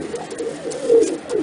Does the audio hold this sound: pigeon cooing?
yes